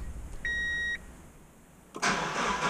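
A car engine starting with an unusual tone: a steady electronic chime sounds first, then after a short pause the engine cranks and catches into a loud, rough idle close by.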